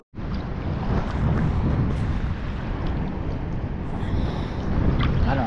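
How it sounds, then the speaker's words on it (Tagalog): Strong wind roars steadily across the microphone on a seashore during shore casting in Abu Dhabi, a constant loud rumbling buffet with surf beneath it and no voices. "Malakas ang hangin ngayon."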